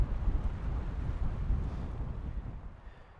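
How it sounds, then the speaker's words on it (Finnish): Strong wind buffets the microphone beside Ylimmäinen Porijärvi lake in the Vätsäri wilderness, a steady low rumbling roar that gusts and then eases slightly toward the end, with no voices. "Perkeleen kova tuuli."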